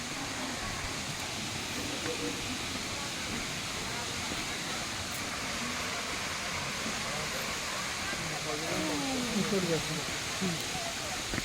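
The Phuljhari waterfall in Kalahandi district, a broad, constant roar of falling water that fills the whole scene without pause, with voices talking over it.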